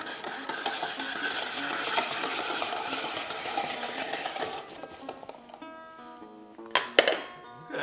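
A potato pushed with a plunger through the slicing blades of a kitchen cutter into a bowl, a steady close grinding and scraping for several seconds, then quieter knocks and a sharp clunk near the end.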